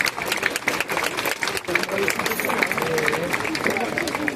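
Crowd at a summer town festival proclamation clapping steadily, dense applause with some chatter mixed in, holding at an even level for several seconds.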